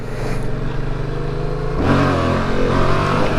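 Motorcycle engine, a Yamaha MT-07, revving hard during a wheelie on an unlit road at night, steady drone rising sharply to a louder, higher roar midway, close and continuous with no talk.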